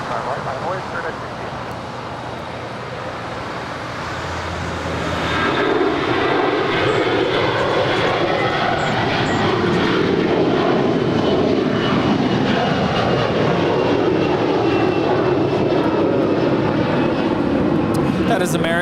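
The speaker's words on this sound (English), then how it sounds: "That is American Airlines 990 departing to Atlanta. It's a 21-year-old Airbus A321." Departing American Airlines Airbus A321, 21 years old, bound for Atlanta from Los Angeles airport: steady engine roar swelling loud about five seconds in and holding broad and powerful, with faint background talk.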